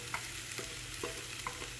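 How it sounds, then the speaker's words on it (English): Dal with spinach is gently stirred in a pan, a low steady sizzle broken by soft, evenly spaced spoon scrapes against the bottom, faint and close. "now gently stir it."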